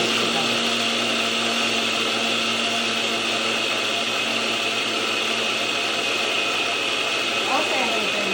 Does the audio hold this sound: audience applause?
no